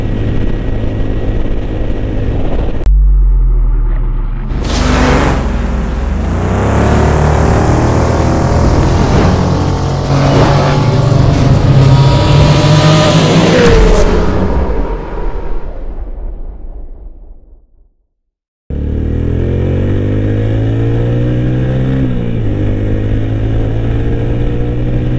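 A 2021 Yamaha YBZ-DX motorcycle revs hard on a highway, the engine droning loudly, then climbing in pitch through a long acceleration before a brief cutoff and a steady resumed roar.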